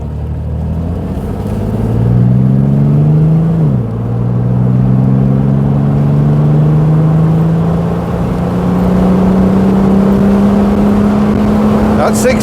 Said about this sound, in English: So perhaps we can actually get our foot down a bit and see what the performance is like.